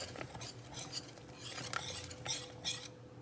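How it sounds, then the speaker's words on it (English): A small whisk stirs milk into a thickening nacho cheese sauce in a pan, making quiet, quick scraping and tapping against the pan with faint bubbling, heard close and with no talking. "I should probably be using a spatula, or not a spatula, a whisk. Got my little whisk."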